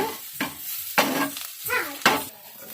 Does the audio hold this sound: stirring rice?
yes